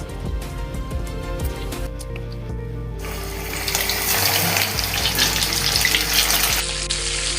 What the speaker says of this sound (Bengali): সব মাছগুলো ভালো করে কোট করে নিয়েছি, আমি এগুলোকে ফ্রাই করে নেব।